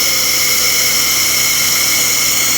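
A Suzuki Carry DA64W wagon engine runs after being fixed from a crank-no-start fault, giving a loud, steady hissing roar that stays constant and close with no pauses.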